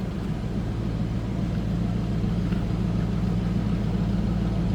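A 1989 Ford Mustang GT convertible idles steadily, its exhaust giving a loud, close, even low rumble with no revving and no voices.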